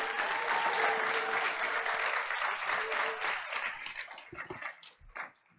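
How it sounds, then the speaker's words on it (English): A room full of people at a school board of education meeting breaks into sustained applause, loud and dense at first, then thinning into scattered claps and some talk near the end. "Let's give him a big round of applause."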